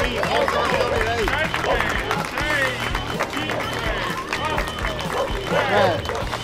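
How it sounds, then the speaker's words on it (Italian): A crowd claps at the start of the Padova marathon, with scattered, lively applause running beneath a loud announcer speaking over the sound system. "facciamo un applauso amici"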